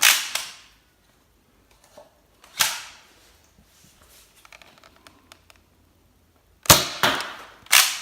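A toy blaster being test fired outdoors: a few sharp, loud pops separated by quieter pauses filled with soft clicks and handling noise while it is reloaded, with two shots close together near the end.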